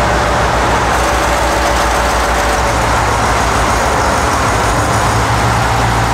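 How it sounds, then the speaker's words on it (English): A tractor engine runs loudly and close up, a dense, steady rumbling drone with no pauses and no voices. "I've never had this tractor to be able to start without starting fluid,"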